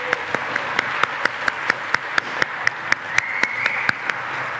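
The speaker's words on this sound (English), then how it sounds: "Round of applause, Trinity." Audience applause with a few loud, sharp claps standing out in a regular rhythm over a softer, steady wash of clapping from the crowd.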